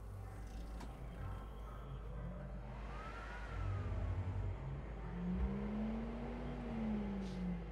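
A car in Cyberpunk 2077 drives through a desert and accelerates, its engine note climbing in pitch over a steady, fairly loud road rumble.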